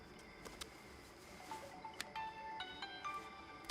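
A phone rings in a series of faint, bright electronic ringtone tones that repeat in a short melodic pattern over quiet room background, with no talking.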